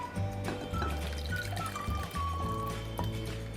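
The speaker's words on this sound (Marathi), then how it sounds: "आता हे बासुंदीचं मिश्रण चांगलं थंड झालेलं आहे, ते एका बाउलमध्ये आपण काढून घेऊया." Thick, cooled basundi, a sweet milk mixture made with custard apple, poured from a pan into a bowl: a soft, continuous liquid pour with gentle glugs and drips, close up and steady for a few seconds.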